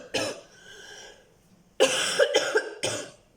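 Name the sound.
coughing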